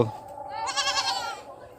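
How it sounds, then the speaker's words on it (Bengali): Young goat kids bleat near a farmyard pond among free-ranging chickens and ducks, a single wavering cry rising over low background noise. "ছাগল ছানা"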